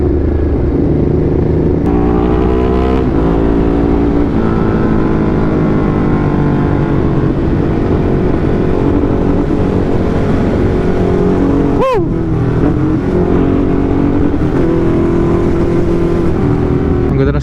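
A black Ducati motorcycle, probably a 939 Hypermotard, runs close by with a steady droning engine, and one sharp rev swoops up and back down near the middle.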